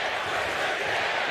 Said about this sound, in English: The crowd is lively.